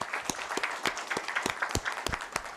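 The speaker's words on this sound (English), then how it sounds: "don't we think it's a time to do a round of applause for all the people present here?" Applause from the audience at a leadership roundtable event, a steady wash of many hands clapping with sharp individual claps standing out, moderately loud and continuous throughout.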